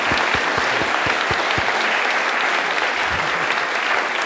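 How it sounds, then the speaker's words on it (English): Audience applause at a conversation event with Michael Palin, a loud, close round of clapping with distinct individual claps early that merge into a dense, sustained clatter for several seconds. "Well, can we have a quick round of applause?"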